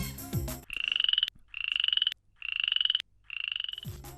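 Four long, loud croaking calls from a frog, each a rapid pulsing rattle lasting about half a second, separated by short silences.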